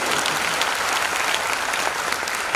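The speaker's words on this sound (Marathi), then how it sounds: "तर टाळ्या वाजल्या" Audience applause fills a hall during a police constable's motivational talk to students, a dense, steady wash of many hands clapping at even loudness throughout, with no voices over it.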